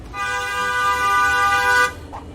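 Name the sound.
car horn honking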